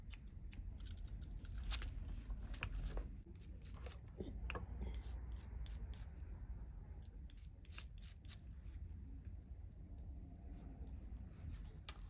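Scissors point cutting the hair of a pixie closure up close: a rapid run of crisp little snips and clicks, irregular and quiet, over soft rustling with no talk.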